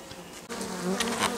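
Steady, dense buzzing of many honeybees from a colony close by in a forest apiary, a continuous droning hum with no voices.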